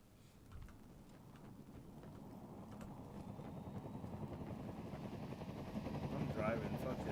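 Helicopter rotor and engine in a video game, a steady broadband whirring drone that builds slightly louder over several seconds, with people talking over it.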